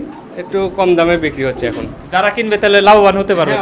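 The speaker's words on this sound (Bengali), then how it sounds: "বহুত কবুতর আছে।" Pigeons coo at a pigeon farm, soft repeated calls heard beneath a man's close, continuous talk.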